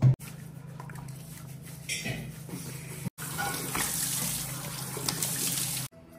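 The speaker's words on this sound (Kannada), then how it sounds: "ಈಗ ಫಸ್ಟು ಮುಖ ತೊಳ್ಯೋಣ" Tap water runs and splashes into a sink as a face is washed. The steady close-up gush stops briefly partway through, then flows again before being cut off.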